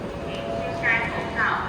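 Indoor ambience at the entrance of Guangzhou railway station, southern China: a constant hubbub of indistinct crowd voices and hall reverberation, with faint brief tonal chimes rising above it.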